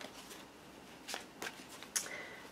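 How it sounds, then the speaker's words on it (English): Tarot cards being shuffled by hand, a few soft riffling bursts and flicks spaced apart in a quiet room. "Just shuffling the cards."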